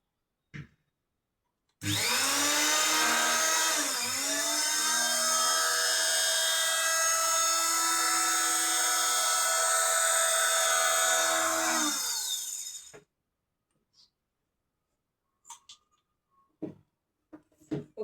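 A sewing machine runs fast and continuously for about eleven seconds while tailoring white school uniform pants, a loud close whirring hum that starts abruptly and stops, followed by a few quiet handling clicks.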